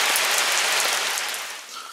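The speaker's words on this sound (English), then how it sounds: "The rain is coming down." Rain coming down steadily at an outdoor camp meal in the Oregon Coast Range in fall, a dense close hiss of drops on surfaces that eases slightly toward the end.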